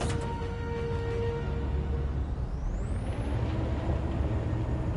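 A truck in the Detroit: Become Human video game rumbles low and steady as it starts, with a brief air brake hiss and a rising whine partway through.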